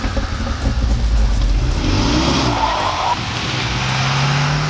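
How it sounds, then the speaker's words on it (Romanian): A Renault Megane R.S. sports car engine revs and accelerates loudly through its exhaust, the roar rising and shifting, with a brief tire squeal in the mix; no one speaks. "Chiar și sunetul eșapamentului se modifică în funcție de răspunsul ales de tine pentru"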